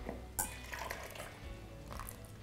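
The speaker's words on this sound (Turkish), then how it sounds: "Bunu unlu karışıma döktüm." Buttermilk and egg yolk mixture poured into a bowl of flour mixture for pancake batter, soft wet splashing and dripping up close after a sharp clink near the start.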